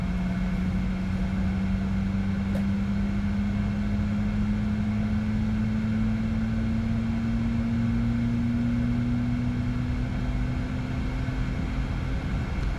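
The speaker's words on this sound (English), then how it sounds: "Now we have started cutout, and the engine has successfully started." A Boeing 737 engine spooling up during start in a full motion simulator, a steady loud rising whine over a constant low rumble, with no voices.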